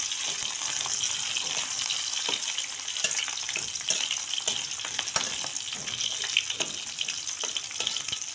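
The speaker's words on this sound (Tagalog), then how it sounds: "So, kapag nagisa na po natin ating bawang, so, ilagay po natin ating sibuyas." Onion and garlic sautéing in a pan for ginataan, a steady close sizzle with scattered crackles and soft scraping from stirring throughout, no voices.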